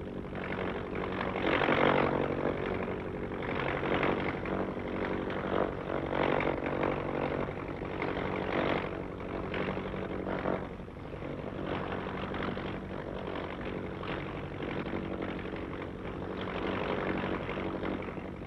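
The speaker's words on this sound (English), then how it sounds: "His plane was a Machi Castoldi MC-72, powered with two water-cooled Fiat 12-cylinder engines, one behind the other" The Macchi Castoldi MC-72 racing seaplane, powered by two water-cooled Fiat 12-cylinder engines mounted one behind the other, produces a sustained, slightly surging engine drone that holds at moderate level throughout.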